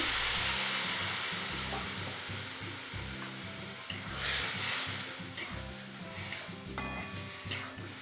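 Chili paneer masala with red chili sauce and soy sauce being stir-fried in a pan after water is poured in, a steady close sizzle with repeated scraping and stirring strokes and a few sharper clinks.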